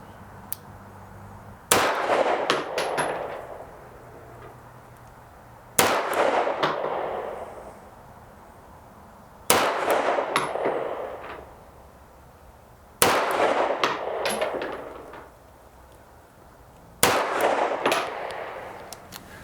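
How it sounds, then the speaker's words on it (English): A CZ Shadow 2 pistol fired five times at a steel target 15 yards away, each loud sharp crack spaced several seconds apart with a ringing decay and a faint metallic ping from the plate. "I'm gonna go ahead and take 5 more shots, aim for center mass on there, and see how it hits at 15 yards."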